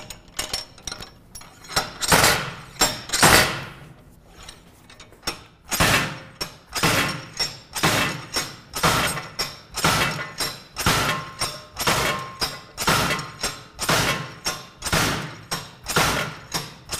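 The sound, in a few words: slide hammer pulling a seized part on a 2014 Chevy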